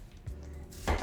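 A kitchen knife chopping quickly on a board, giving a couple of close, thudding strikes in about a second.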